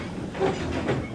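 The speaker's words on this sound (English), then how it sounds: "There was a lot to shunt, but Thomas didn't mind" A toy Thomas the Tank Engine train shunts goods trucks, giving a low rumbling roll with faint clickety-clack and soft metallic squeaks, brief and moderately quiet.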